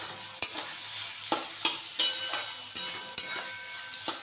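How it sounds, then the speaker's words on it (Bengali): Boiled bottle gourd peel with turmeric and salt being fried in a pan, a soft background sizzle broken by repeated sharp scraping and tapping strokes of a spatula stirring it, fairly regular and close. "এখন এটাকে ভালো করে একটু ভেজে নেব"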